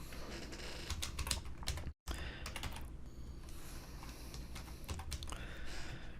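Rapid typing on a computer keyboard in a quiet room, steady clusters of close key clicks with a brief pause near the middle, no voices.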